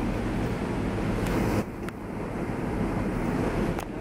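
Strong wind blows steadily outdoors near an airport, a loud, constant roar and rumble buffeting the microphone, with a brief lull partway through before the gusts pick up again.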